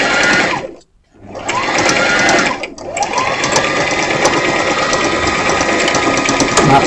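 Sewing machine stitching a plain seam: a loud, close, fast mechanical whir that runs, stops briefly near the start, then resumes and continues steadily to the end.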